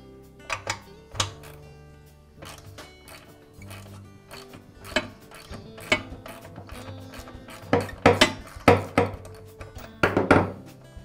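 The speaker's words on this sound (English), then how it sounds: "I'll begin by removing the old thermal relief valve from the pump." An old thermal relief valve being unscrewed from a Homelite pressure washer pump, heard as irregular close metallic clicks, scrapes and ratcheting knocks in bursts, growing busier toward the end, with no talking.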